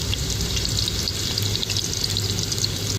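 Finely chopped onion frying in oil for a spicy chicken gravy crackles in a close, loud, continuous sizzle, steady from start to finish without any voices.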